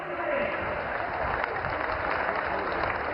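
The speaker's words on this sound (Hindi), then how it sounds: "आइए मंचस्थ विराजमान सभी महानुभाव का तालियों की गूंज के साथ एक बार फिर हम स्वागत करें, अभिवादन करें।" Sustained applause from a large audience welcoming dignitaries on stage at a public ceremony, a steady dense wash of clapping that holds at even loudness throughout.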